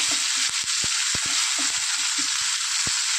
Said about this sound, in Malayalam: ഇതെല്ലാം കൂടെ നന്നായിട്ടൊന്ന് ഇളക്കി യോജിപ്പിക്കുക